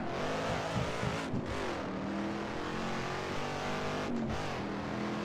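A Shelby Cobra's engine revs and drones in the Assetto Corsa racing game at Spa, with a steady loud roar and shifting pitch through gear changes and two brief dips where the throttle lifts.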